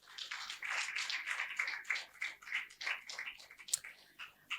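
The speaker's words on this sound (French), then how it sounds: "Et je vais appeler Madame Odette Fouta, sous vos applaudissements." An audience at an afterwork career event applauds, a dense spread of clapping that swells and holds for several seconds, steady and moderately close, with no talk over it.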